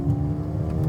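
A Mercedes-AMG A35 hot hatch exhaust drones steadily from inside the car, a low, even engine note with a faint rise, heard alone and brief.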